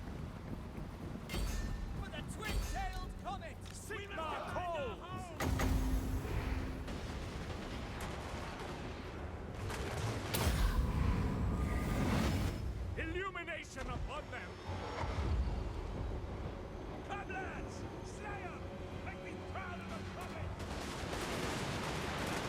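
Firing squad volleys of gunfire from a Total War: Warhammer Empire multiplayer battle, sharp bursts standing out against a dense ongoing battle din of clashing effects and rumble, with someone talking over it.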